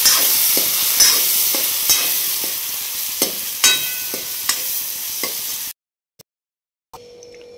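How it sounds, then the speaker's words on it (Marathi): Tempering for a fresh farm eggplant curry sizzles steadily in a pan while a spoon stirs with repeated scraping clicks, then the frying cuts out near the end, leaving near silence and a few faint bumps. "फोडणी दिली आता वांग्याला."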